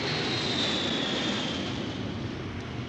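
A small airplane flies while running out of fuel, its engine a loud, steady drone that fades slightly toward the end, heard alone without voices.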